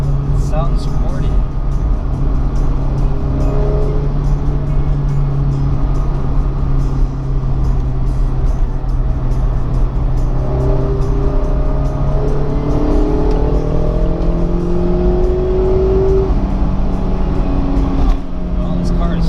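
A 2016 Mazda Miata's engine and exhaust drone steadily while driving, with shifting pitch as it revs up near the end, heard from inside the car under ongoing conversation.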